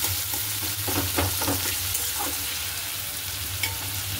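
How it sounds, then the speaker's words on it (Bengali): Spices fry and are stirred in hot oil with a continuous close sizzle, and a utensil scrapes the pan in repeated light strokes. No one speaks. "আমি এরকম তেলের মধ্যেই সব মশলা দিয়ে একটু নাড়িয়ে চাড়িয়ে"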